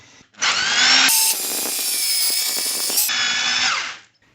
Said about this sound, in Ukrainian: а тепер перфоратором досверлюємо бетон.